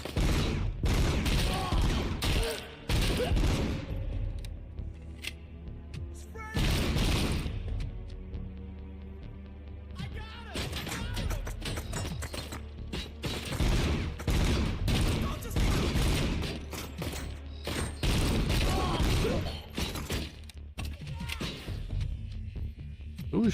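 Heavy, sustained gunfire in the video game RoboCop Rogue City, dense overlapping volleys and rattling bursts that surge and ease repeatedly amid a close-quarters firefight.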